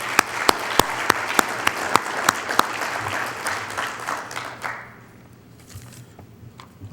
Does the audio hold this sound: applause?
yes